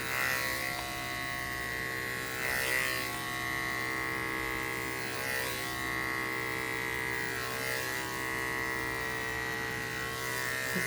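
Electric clippers buzz steadily while shaving a big, heavily matted dog's fur, a close continuous drone with slight swells in pitch as the blade moves through the coat.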